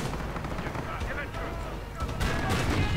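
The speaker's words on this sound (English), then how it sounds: "Artillery getting called in on the trench, it seems like." Artillery barrage landing on a trench in a WWII video game, a dense continuous roar of blasts and gunfire with a louder burst near the end, while someone talks over it.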